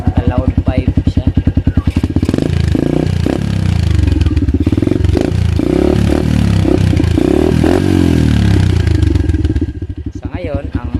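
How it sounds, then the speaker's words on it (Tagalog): A motorcycle fitted with a modified loud exhaust pipe, recorded about a foot from the muffler: a deep loud idle putter that swells into a sustained rev before settling back to idle. "So yan, naka loud pipe siya."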